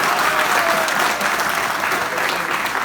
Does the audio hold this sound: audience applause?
yes